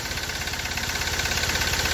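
A Hyundai i20 engine, suffering black smoke, knocking noise and low pickup, idles steadily with a rapid, even mechanical patter, close and constant with no talking.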